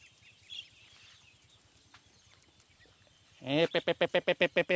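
Ducks at a farm among Thai rice fields are quiet at first. Then a close, loud run of about eight rhythmic quacks bursts out in quick succession.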